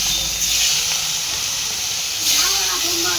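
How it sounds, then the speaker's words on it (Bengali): Fish frying in hot oil at home, a loud hissing sizzle that runs steadily and close, flaring brighter partway through, with a voice briefly audible underneath. "মাছগুলো ভাজা হচ্ছে।"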